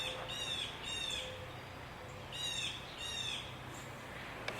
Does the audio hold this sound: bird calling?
yes